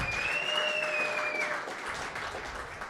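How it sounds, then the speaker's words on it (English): Steady audience applause fills the whole stretch, dense clapping with a faint high whistle-like tone fading out partway through. "How about another round of applause for Tim and Spiral?"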